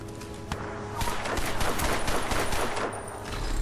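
Gunfire from the video game Crysis 2, a dense fusillade of rapid automatic shots and bursts running continuously and loudly throughout.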